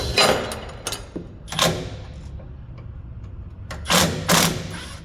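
Impact wrench loosening wheel nuts on a 1972 Pontiac LeMans, several short loud rattling bursts separated by quieter pauses, close up in a workshop.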